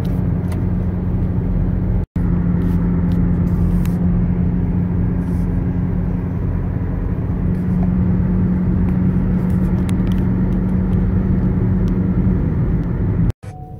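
A rally-prepared BMW's engine drones steadily at a Cars and Coffee meet in MacGregor Village, Cary, a loud continuous rumble with a sustained low hum, broken only by two brief dropouts.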